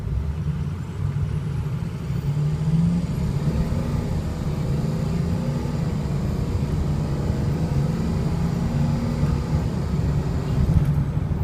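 A 2007 Ford F250 diesel 4x4 pickup idles steadily, a smooth low rumble with a continuous even drone and faint mechanical clatter, close and unbroken for the whole stretch without speech.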